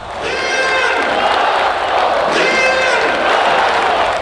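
Handball fans in arena stands for a Metalurg versus Chambery match cheer and shout continuously, a loud dense crowd roar with rising whoops throughout.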